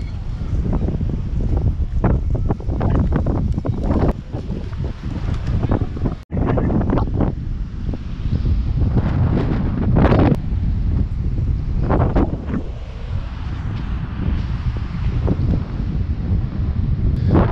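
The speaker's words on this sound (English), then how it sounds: "It is super windy out here." Loud, blustery wind buffets the microphone continuously in Durban, South Africa, with gusts rising and falling in a constant low roar outdoors.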